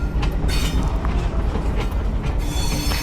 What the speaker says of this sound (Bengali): ওই যে ট্রেন চলে যাচ্ছে।